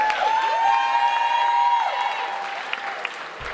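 An audience claps and cheers at a university Caribbean royalty scholarship pageant. The applause is loud and sustained, with a high whoop rising over the crowd, and it fades out toward the end.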